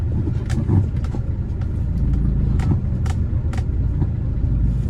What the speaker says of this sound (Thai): มันจะฟรีล้อหลังนะครับ